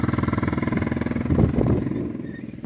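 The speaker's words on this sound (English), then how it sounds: "The quad is still going, the fertilizer spiller is still going." A Suzuki 450 quad bike engine idles and chugs nearby with a rapid pulsing throb, running a Walco fertilizer spreader that adds a faint clatter, the engine swelling briefly midway before settling again.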